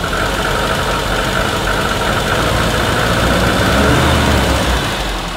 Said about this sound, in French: ça tourne pas très bien au ralenti déjà